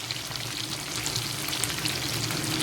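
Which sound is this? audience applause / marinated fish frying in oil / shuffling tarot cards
marinated fish frying in oil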